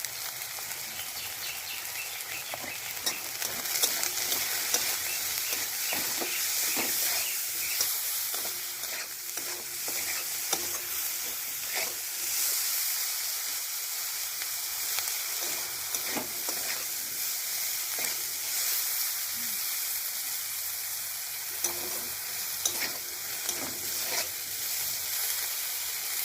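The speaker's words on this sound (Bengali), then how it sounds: "বেগুনটা একটু ভাজা হয়ে গেছে" Eggplant frying in a pan with salt and turmeric, a steady close sizzle broken by repeated scraping clatters of a spatula stirring against the pan, no voices throughout.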